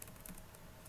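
Quick light keystrokes on a computer keyboard, a few soft clicks over a faint steady hum, close and brief.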